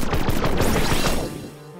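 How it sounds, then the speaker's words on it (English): Rapid gunfire from the space-colony game Nova Lands, a dense burst of shots lasting over a second and then trailing off, loud and close with no talk. "We need to shoot this one more time."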